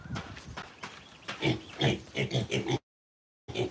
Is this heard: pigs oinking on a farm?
yes